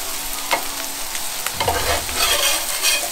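Mashed potatoes fry to a crispy edge in a pan, a steady close sizzle broken by a few scraping stirs, with no voices over it.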